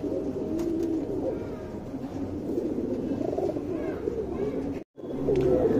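Pigeons coo continuously close by, soft low burbling calls overlapping with one another, broken by a brief dropout near the end.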